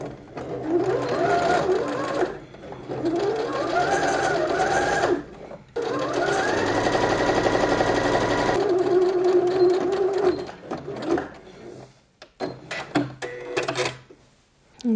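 A domestic sewing machine stitching a seam on a summer dress runs in several long bursts separated by short pauses, loud and close, with its whirring rising in pitch as each run speeds up, followed by scattered handling clicks.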